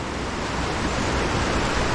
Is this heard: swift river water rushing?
yes